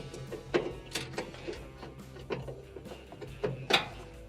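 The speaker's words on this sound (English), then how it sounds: "put the screw in, and start to thread it. I'll go ahead and tighten it up." A screw is tightened on a clothes dryer's thermistor probe, giving quiet, sparse metallic clicks and ticks at irregular intervals with faint background between them.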